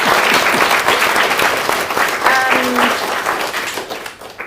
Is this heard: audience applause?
yes